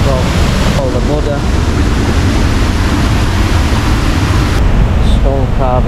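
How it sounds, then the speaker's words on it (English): Sumampan waterfall in Bali roars as a steady, loud wash of falling water close by, with a voice briefly audible over it. "There's your waterfall."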